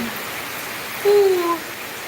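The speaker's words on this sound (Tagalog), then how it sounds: "Yan oh, lakas ng ulan." Heavy typhoon rain in the Philippines pours down in a steady, dense hiss, with a brief faint tone rising over it partway through.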